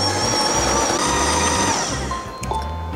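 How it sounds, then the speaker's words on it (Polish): Monsieur Cuisine Smart food processor stirring waffle batter at speed 4, a loud steady motor whir with a low rhythmic churning that winds down near the end. "Mieszamy ciasto na gofry. 30 sekund, obroty prawe 4, czyli tak jak poprzednio."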